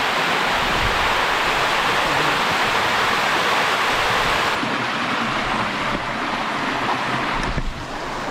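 Waterfall at Spring Creek near Kununurra, a loud, steady close-up roar of rushing water that drowns out everything else, easing slightly toward the end.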